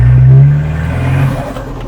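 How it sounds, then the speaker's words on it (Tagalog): Engine of a 2014 Toyota Hilux Vigo revving loud and close, a strong low roar with a whirring turbo note that swells early, then eases to a steadier idle-like hum. "Narinig ko yung turbo sound. Pakinggan nga natin yun."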